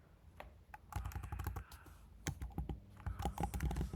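Rapid keystrokes rattle on a computer keyboard in uneven bursts, close and fairly quiet, with short pauses between runs of clicks.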